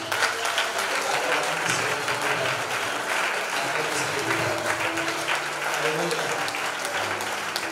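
A church congregation applauds, sustained dense clapping that fills the whole stretch at close range, with voices mixed into the crowd noise.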